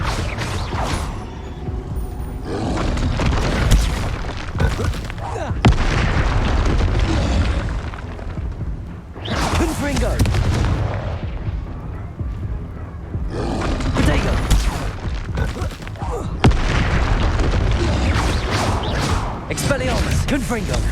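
Confringo fire-blast spells cast in the video game Hogwarts Legacy, loud repeated booming explosions with crackling bursts and mechanical game effects in a dense, continuous battle mix.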